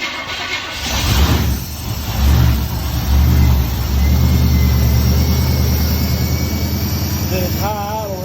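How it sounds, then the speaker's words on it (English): A street car engine with a Firetech fuel system runs at a loud, steady high idle nearby, a continuous rumble with a couple of brief swells early on and no talking. "It's high idle right now."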